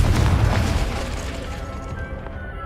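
Blast from the Confringo fire spell in Hogwarts Legacy, a loud, deep booming explosion that hits at once and rumbles away over a couple of seconds.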